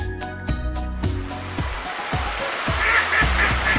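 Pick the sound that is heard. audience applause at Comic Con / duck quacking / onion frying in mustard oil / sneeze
duck quacking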